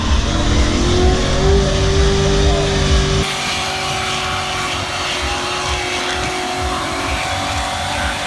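A stuck car revs hard with its wheels spinning, the engine roaring loud and close before the pitch drops and settles into a lower rumbling spin.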